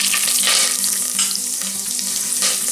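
Mustard seeds, cumin, cinnamon and cloves sizzle loudly in hot oil close up, a dense crackling hiss with light stirring and no talk.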